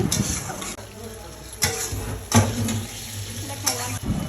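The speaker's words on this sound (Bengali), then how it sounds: "তারপর এটাকে নেড়ে চেড়ে নিচ্ছি" A spatula scrapes and stirs food in a pan, a few distinct strokes over a soft, steady frying sizzle.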